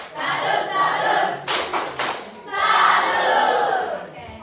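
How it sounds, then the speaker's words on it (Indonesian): A school class chants the tepuk salut clapping routine, with loud group voices in unison, a quick burst of sharp hand claps in the middle, and more chanting that follows close and full. "Kita satu lagi, ada tepuk salut."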